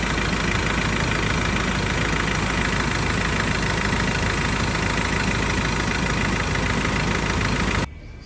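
A used 2013 Ford Ranger XLS 2.2 engine idles steadily, a continuous low rumble with a faint vibration, running nearby for several seconds before cutting off abruptly at the end.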